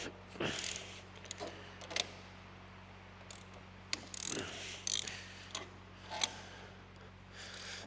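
A hand ratchet with a deep socket works loose the engine head bolts on a 1942 Caterpillar grader, giving irregular clusters of sharp clicking strokes with pauses between, close by over a low steady hum.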